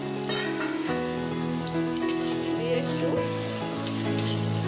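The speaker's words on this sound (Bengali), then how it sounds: "এই গরম তেলে আমি আলুগুলো দিয়ে দিলাম," Potatoes sizzle in hot oil with a constant, crackling hiss, set against steady background music, while a voice speaks briefly.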